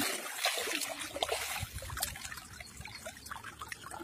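Irrigation water trickling and flowing through a field channel in a groundnut field, a steady soft gurgle and splash that stays close and continuous throughout, with no voices.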